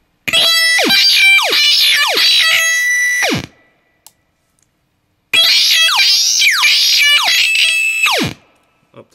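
An electric guitar runs through a Schumann PLL pedal, giving loud distorted, laser-beam-like sweeping tones in two long bursts separated by a short silence.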